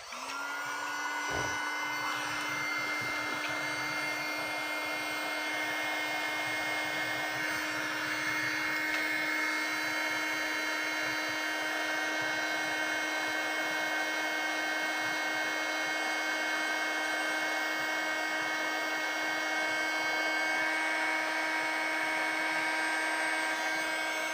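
A hair dryer runs steadily and loudly throughout, with a constant whine and broad airflow roar, drying a gouache painting of a gnome without any voices.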